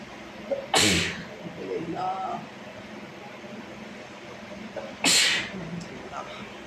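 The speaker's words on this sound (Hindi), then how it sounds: "यहाँ आ गई थी मुझे छींक" Two sharp, loud sneezes several seconds apart in a home kitchen while biryani is being cooked, with faint background sounds between them.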